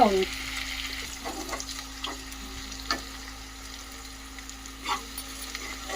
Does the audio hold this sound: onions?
yes